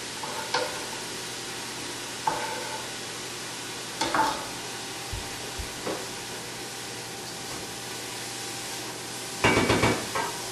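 Garlic cloves for a homemade pasta sauce cook quietly in a pot, with a soft low sizzle under scattered spoon stirs and clinks against the pot, ending in a louder burst of scraping near the end.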